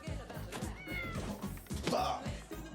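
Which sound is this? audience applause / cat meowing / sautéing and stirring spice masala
cat meowing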